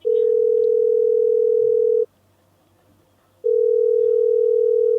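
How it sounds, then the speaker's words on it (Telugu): Telephone ringback tone on an outgoing call: a steady electronic tone sounding for about two seconds, a short silent gap, then the tone resuming, clear and alone with no talk. "రింగ్ అవుతోంది."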